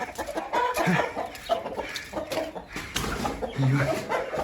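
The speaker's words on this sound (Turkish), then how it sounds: "Etlik horozumuz bunlara guruluyor." Broiler chicks clucking close by with a broiler rooster's low calls mixed in, steady and busy throughout.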